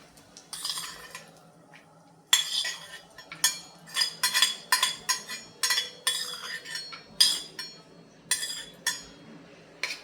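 A spoon scrapes roasted food out of a kadhai onto a dish in a quiet kitchen, making a close run of metallic clinks and scrapes that falls into an uneven rhythm, with no talking.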